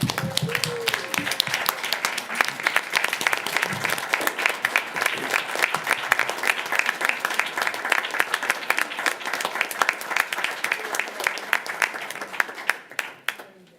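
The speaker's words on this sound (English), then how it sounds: "I would like to lead us in a round of applause for Michael Johnson." A room of people at a board meeting break into a round of applause, dense steady clapping that holds for several seconds before thinning out and fading to quiet.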